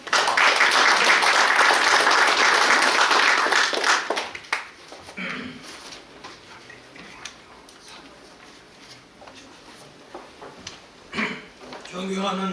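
An audience at the founding ceremony of a political association bursts into loud, sustained applause for about four seconds, then it dies away into a quieter hall with scattered claps, shuffling and voices.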